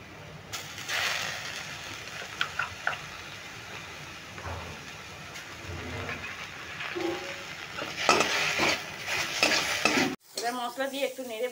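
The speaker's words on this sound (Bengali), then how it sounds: "এবার মশলা দিয়ে একটু নেড়ে ভেজে নিলাম" Spices with Kashmiri chilli powder and chilli paste fry in a pan for a bread snack, stirred with a spoon: a continuous sizzle with scraping strokes that grow busier toward the end.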